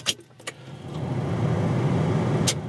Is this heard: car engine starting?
yes